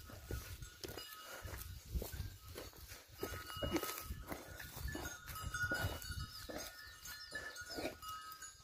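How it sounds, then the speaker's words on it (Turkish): Flock of goats and sheep moving uphill in a village pasture, repeated hoof steps and shuffling with occasional bleats and a cowbell clanking, at moderate distance and fairly quiet. "Keçiler koyunlardan önce yukarıya çıkmaya başladılar."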